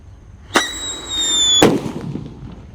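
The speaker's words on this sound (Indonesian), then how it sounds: "di sini ada mercon black buster yang akan kita nyalakan" A Black Buster firecracker detonates close by: a sharp crack, a sustained whistling hiss lasting about a second, then a second loud bang that trails off into scattered debris and echo.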